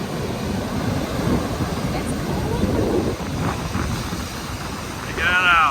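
Wind buffets the microphone over a constant wash of ocean surf at a beach on Assateague Island, with waves rolling in continuously and a louder surge near the end.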